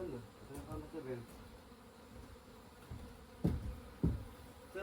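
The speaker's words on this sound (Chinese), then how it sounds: "这么多蜜蜂，它肯定要分家了。" A large swarm of honeybees inside an old granary makes a faint, steady buzzing hum, with a few louder knocks and bumps nearby.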